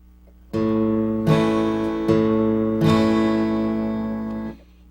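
Four strummed guitar chords ring out in a slow, uneven rhythm, each left to sustain before the next, close and clear.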